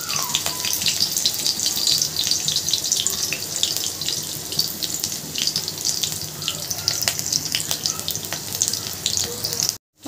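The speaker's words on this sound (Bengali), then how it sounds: "আদা রসুনটা দেখো ভাজা ভাজা মতন হয়ে গেছে" Ginger and garlic frying in hot oil, a close, continuous hissing sizzle with scattered sharp pops that runs steadily and then cuts off abruptly at the end, no voices.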